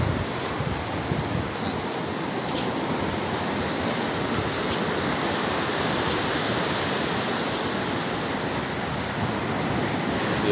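A constant, loud roar of surf washes on without pause, a broad rushing noise of waves close by, with no voices.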